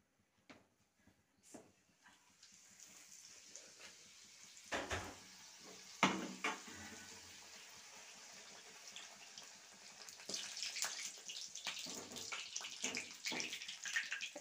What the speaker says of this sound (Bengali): এখন আমি একটা একটা করে তেলে ভেজে নেব।